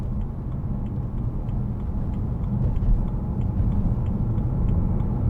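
A 2011 BMW M3 4.0 V8 DCT coupe rounds a roundabout over grids, its engine a steady low rumble with road noise, constant and fairly loud throughout.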